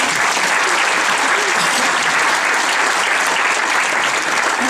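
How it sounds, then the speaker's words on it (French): A live audience applauds loudly and continuously, a dense steady wash of many hands clapping with no pauses. "on les applaudit très fort."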